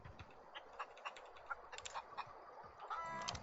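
Short clucking calls from a chicken in The Outer Worlds, several brief bursts scattered over a busy game background with faint ticking, moderately close and not very loud.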